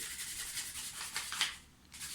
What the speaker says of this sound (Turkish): Ufak bir zımpara işimizi görür. İnce olmasına dikkat edin.